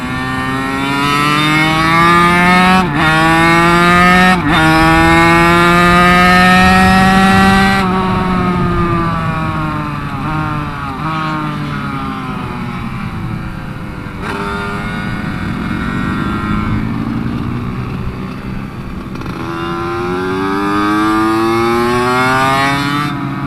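A racing minibike engine running lean and starved of fuel, loud and close, revving up and down in long sweeping pitch changes with brief stumbles as it pulls hard through the gears.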